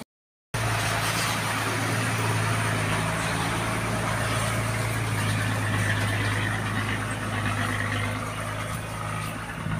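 A loaded lorry hauling sugarcane in the Philippines runs with a steady, continuous engine drone that holds loud and even throughout, with no talk over it.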